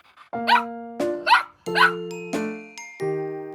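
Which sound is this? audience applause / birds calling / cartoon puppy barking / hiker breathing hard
cartoon puppy barking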